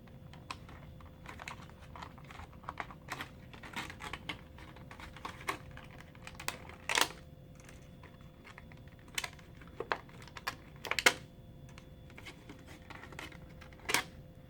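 A Ring of Honor action figure is pried out of its plastic blister card, giving close, scattered crinkles, clicks and snaps of stiff plastic at irregular intervals over quiet background hum.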